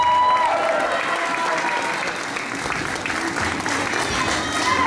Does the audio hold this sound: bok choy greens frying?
no